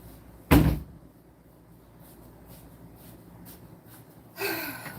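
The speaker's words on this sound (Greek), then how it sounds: "χτύπησε την πόρτα και με το κεφάλι του τη κουντάει." A cat bumps and pushes against a door with its head: one loud knock near the start, quiet shuffling, then a softer scraping push at the end.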